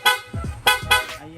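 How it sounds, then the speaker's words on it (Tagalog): A PIAA dual loud horn fitted to a Yamaha Sniper 155 motorcycle sounds three quick, close, loud honks in short succession. "Pag nagbusina ng loud horn"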